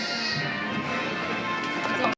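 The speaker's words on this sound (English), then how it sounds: "Here comes Ben, the American Brabant" American Brabant draft horse at a Tennessee horse show, hooves clip-clopping in a steady rhythm under a constant crowd murmur.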